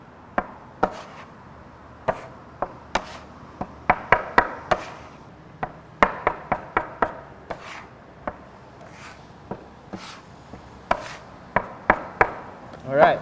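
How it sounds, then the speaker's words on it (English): A bench knife chops repeatedly through flour worked into an egg mixture for homemade pasta dough, giving a steady run of sharp, close scraping taps against the work surface with no talking. "And if we kind of chop it up, it exposes those wet areas and allows the flour to attach."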